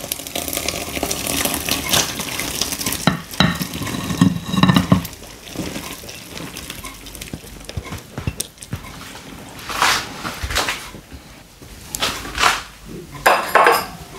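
Hot brine poured over green papaya for a pickle, with pot and utensil clanks and splashing liquid in uneven bursts close by, no talk.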